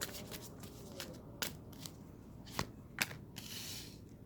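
A tarot card deck being shuffled by hand, producing quiet scattered clicks and riffling snaps close by, with a softer rustle near the end.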